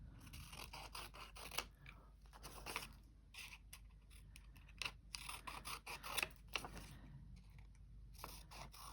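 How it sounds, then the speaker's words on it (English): Scissors snip through a paper quilt template for English paper piecing patchwork, a close run of sharp, irregular cuts and rustles with no talking. "Don't use them scissors, use these scissors."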